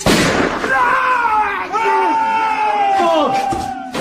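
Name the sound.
gunfire sound effect in a radio drama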